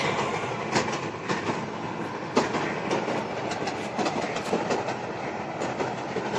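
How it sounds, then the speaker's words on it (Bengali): A train rolls past on a railway line in Gaibandha, seen from a rooftop. The loud, continuous roar of the wagons carries steady clickety-clack wheel beats throughout, with no talk. "ট্রেনটা এখন যাচ্ছে"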